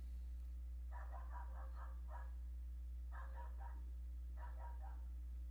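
Puppy barking outdoors in three bursts of rapid yips, faint and distant, over a steady electrical hum.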